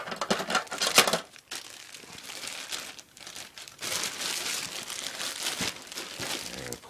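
Plastic crinkles and crackles as a taped-up surplus bag is cut open, with sharp crackling bursts near the start followed by steady rustling, close and fairly quiet, and one brief spoken word.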